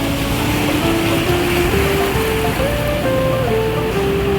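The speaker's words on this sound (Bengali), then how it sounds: "জলটা পুরো ঠান্ডা আর ঢেউ রয়েছে" Sea waves washing onto the beach at Mandarmani in the morning, a steady, loud roar of surf throughout, with a faint high tonal sound drifting above it.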